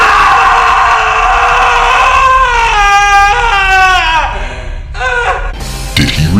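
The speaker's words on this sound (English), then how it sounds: "he will unleash a scream of such epic proportion" Man in a movie scene lets out a long, loud, high-pitched wailing scream that bends and cracks, followed by shorter strained cries and clattering noise.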